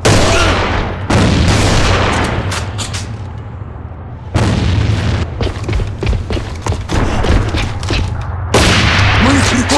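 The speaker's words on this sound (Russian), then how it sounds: "Впереди! Граната!" Grenade blasts and heavy gunfire in the video game Ava, loud and sustained with bursts of explosive booms and rattling shots, broken by brief lulls, with voices shouting over the combat.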